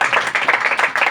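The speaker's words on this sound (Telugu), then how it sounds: "చప్పట్లు కూడా దేవుని నామాన్ని మహిమపరుద్దాం." Church congregation clapping at a pastor's housewarming in Sileru, a brief run of dense, fairly close hand claps in uneven bursts with no talk over it.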